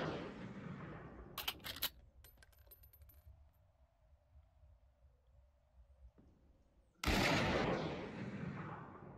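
Gunfire bursts from a video game weapon come in sharp clusters, with a short series of loud shots early on, then a quieter mechanical stretch, and a sudden heavy blast near the end.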